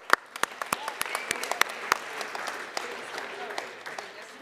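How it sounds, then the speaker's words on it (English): A crowd applauds at a ski and snowboard film and speaker event, a lively mix of many hands with sharp individual claps standing out near the front, fairly quiet overall and steady, with some talk underneath. "Big round of applause for coming."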